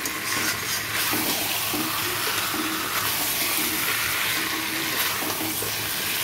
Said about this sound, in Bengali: ভালো করে এবারে কষিয়ে নেব মাংসটা মশলার সাথে